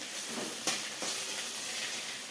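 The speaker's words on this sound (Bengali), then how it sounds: "কড়াইয়ে চামঘষের পাতার চাটনি বানাবো তো চামঘষের পাতা ভাজা করে নিচ্ছি" Chamghash leaves frying in a wok, a steady loud sizzle with crackling hiss and a couple of sharp stirring clinks.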